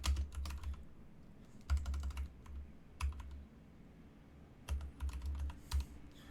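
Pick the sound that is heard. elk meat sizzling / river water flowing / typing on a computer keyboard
typing on a computer keyboard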